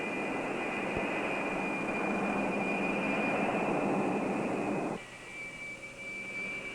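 Douglas DC-8 jet airliner engines at full takeoff thrust, 54,000 pounds, on the runway: a loud, steady broadband roar with a high whine, dropping abruptly in level near the end. 1959 United airliner.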